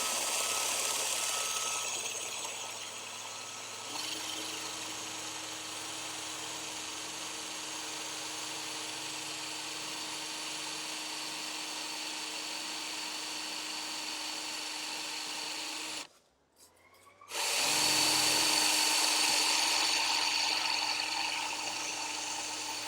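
A power drill bores into a deck post for a DIY deck roof, giving a steady high motor whine that pauses briefly and restarts, heard fairly close and alone, without speech.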